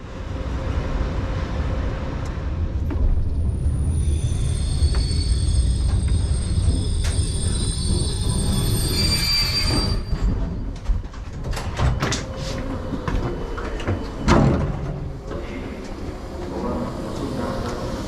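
A ZSSK sleeper train pulls into Bratislava Nové Mesto station in the early morning, a steady low rumble and rolling hum with high brake squeals, then clunks and door noises as it comes to a stop, with pigeons cooing nearby.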